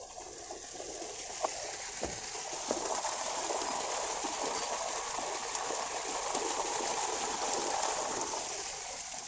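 Clean water rushes steadily in a mountain stream along a Himalayan trek trail, a continuous broadband wash with no voices.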